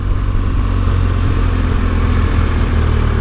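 A trail motorcycle's engine drones loud and steady with a deep low rumble, passing close by in the hills of Wales along a route between Betws-y-coed and Capel Curig.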